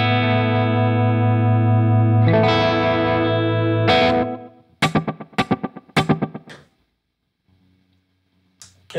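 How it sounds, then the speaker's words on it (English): Guitar tone through an effects pedal with a wavering modulated shimmer: a sustained chord, then a run of sharp plucked notes fading to near silence. "There's still some modulation, you can hear it."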